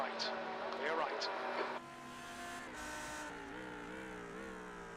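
In the iRacing sim at Sebring during a 12-hour endurance race, a race car engine drones and shifts pitch as a car passes close by, with voices talking over it.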